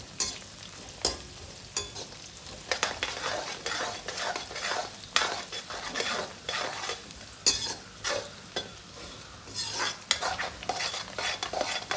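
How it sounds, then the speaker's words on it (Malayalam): Green chillies and curry leaves sauté in a pan for a lemon pickle: continuous soft sizzling with frequent sharp spoon scrapes and clinks against the pan, fairly quiet and close, no voices. "പച്ചമുളക് ഇട്ടു കറിവേപ്പില നല്ലോണം ഒന്ന് വഴറ്റിയുണ്ട്"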